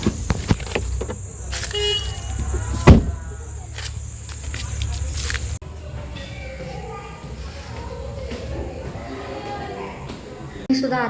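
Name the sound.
road traffic with cars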